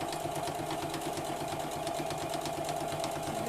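A sewing machine stitches a fabric bowl cosy with a fast, steady mechanical whirring and a rapid, even needle clatter that runs without pause, close and moderately loud.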